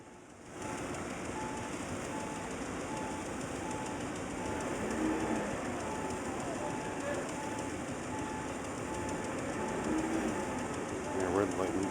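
Historic streetcar at a Baltimore streetcar museum pulling away on rails, a steady low rumble with faint rail clicks and squeals throughout, with people talking in the background.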